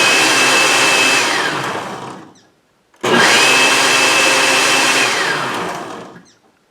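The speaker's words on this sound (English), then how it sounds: "I'm just going to try and blend this up really well." A countertop blender whirs through strawberries, pineapple and lemonade in two loud sustained bursts, each winding down, with a brief pause between runs.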